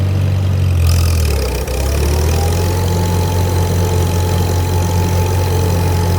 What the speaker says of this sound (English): We're gonna mow it.